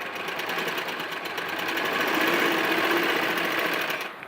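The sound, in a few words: sewing machine stitching lace on blouse back neck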